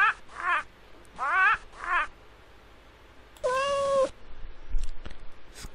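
A cat meows several times in an educational children's video game, three short mewing calls followed by one longer, drawn-out meow, loud and close with quiet gaps between.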